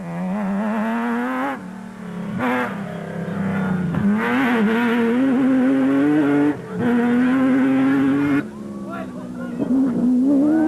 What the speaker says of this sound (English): Francois Jordan had steadily increased their overall lead in the proudly South African Nissan hardbody, which had not missed a beat.